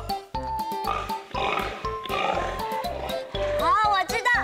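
A voice imitates a pig oinking in a children's sound-guessing game, with short grunting snorts mixed among lively talk and playful squeals from the hosts.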